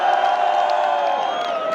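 A large crowd at a political rally in Ndumberi Stadium, Kenya, roaring and cheering in a dense, sustained wall of voices with some clapping, loud and continuous.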